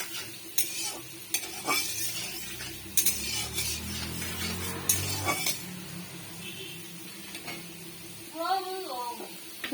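Garlic sizzles softly in oil in a wok while a utensil stirs and scrapes with intermittent metallic clinks; a brief voice is heard near the end.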